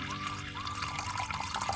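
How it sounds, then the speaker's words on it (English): Water poured steadily into an autoclave up to its max fill line, a continuous splashing, trickling flow heard close and moderately loud with no pauses or talk. "now we're gonna pour water inside up to where we're saying max level"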